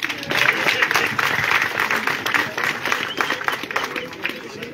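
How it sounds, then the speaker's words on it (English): Mourners at a funeral service applaud, a dense, sustained round of clapping from a sizeable crowd filling the room, with some voices mixed in. "I would like us to all give him a round of applause."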